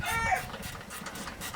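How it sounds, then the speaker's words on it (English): A rooster crows briefly at the start, a short faint call that fades into quiet farmyard background. "I think that rooster's going to be a chicken dinner one of these days."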